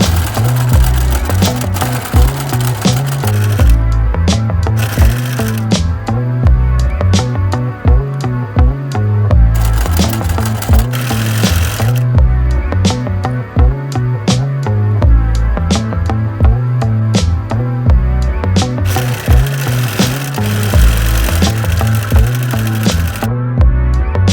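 A sewing machine with an overcast presser foot stitching the bottom hem of stretched fabric during a clothing refashion, running in a steady, loud, continuous mechanical whir with brief pauses and no talking.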